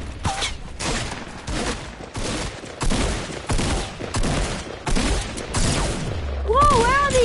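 Gunfire in a shooting video game crackles as repeated bursts of shots over several seconds, loud and fairly close, with players talking over the fighting and a rising tonal game effect near the end.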